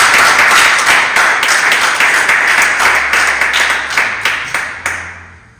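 A church congregation at a French-language sermon claps loudly and steadily for several seconds, the applause thinning out toward the end.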